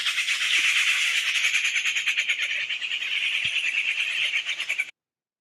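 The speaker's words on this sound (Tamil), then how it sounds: "இது வால் காக்கை, வால் நீளமா இருக்கனால இல்ல வால் காக்கை" A rufous treepie call played from a recording, a rapid, pulsing run of harsh, buzzy notes, loud and close, continuing for about five seconds before cutting off abruptly.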